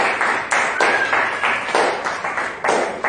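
Church congregation applauding in worship during a French-language Sunday service, loud sustained clapping in rhythmic surges that fill the room, with no clear talk.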